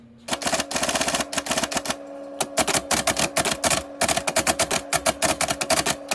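An IBM Selectric II typewriter converted into a teletype prints in rapid, loud bursts of mechanical clacking, two long runs of dense keystrikes with a brief pause, over a steady motor hum.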